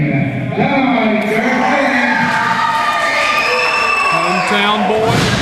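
A hometown wrestling crowd at an NWA Mountain State Wrestling show in Princeton, West Virginia, keeps up a loud, sustained roar of cheering, with a ring announcer talking over it.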